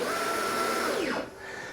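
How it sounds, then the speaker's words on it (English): A CNC machine jogs its spindle while carving a violin neck, giving a short whirring stepper-motor whine that sweeps in pitch and then stops, close and fairly quiet, with no talking. "I have to jog the spindle forward"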